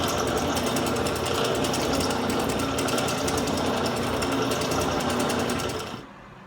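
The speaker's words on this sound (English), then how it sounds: "We'll chuck up a brad point bit, zip the correct hole in the rest of the way" A power drill with a brad point bit bores holes for reassembling a used Ridgid AC9910 stand, running as a loud, continuous buzzing whine close by for several seconds before cutting off.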